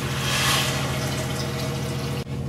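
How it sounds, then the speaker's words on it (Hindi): Water poured from a glass into a cooking pot holding rice for a vegetable tehri, a steady close pouring rush lasting a couple of seconds before stopping abruptly near the end. "हमने चावल 2 ग्लास लिया था, तो हम उसी ग्लास से 4 ग्लास पानी डाल रहे हैं।"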